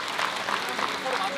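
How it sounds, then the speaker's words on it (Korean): Wedding guests in a hotel ceremony hall applaud the couple, a steady, dense wash of clapping lasting throughout, with a faint tonal line underneath. "하객 여러분께서는 큰 박수로 축하해 주시기 바랍니다."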